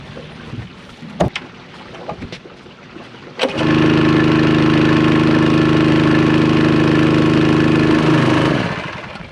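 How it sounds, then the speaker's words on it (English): A water pump motor rattles in the background, then cranks on abruptly and runs with a loud steady engine drone for several seconds before starting to wind down. "Everyone cross your fingers that this motor cranks up."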